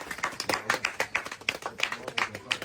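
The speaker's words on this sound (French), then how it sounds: "Pour cette maman, ça s'applaudit." Distinct handclaps from a small group in Douala applauding a mother: separate, fairly loud claps in a loose, uneven rhythm, with voices talking underneath.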